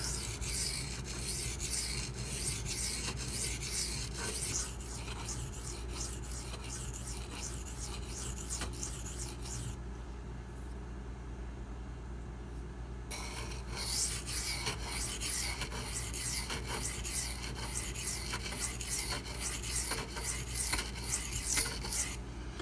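A Spyderco Lil Native knife in 4V steel rasps against a silicon carbide stone in continuous close strokes, a steady gritty scraping that briefly pauses partway before resuming, with no talk.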